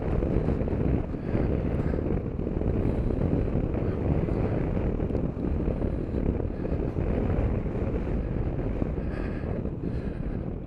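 Steady, roaring wind buffets the microphone while riding a 2021 Super Soco CPX electric scooter on the road, with no engine sound, continuous and loud for the whole stretch.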